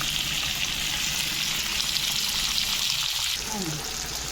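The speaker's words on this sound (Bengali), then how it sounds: "একটু ভেজে নিয়ে কাঁচা টমেটো আর তেঁতুলটা দিয়ে দিলাম" Green tomato and tamarind frying in a pan with green chilies, coriander and curry leaves, giving a steady, close broadband sizzle throughout with no talk.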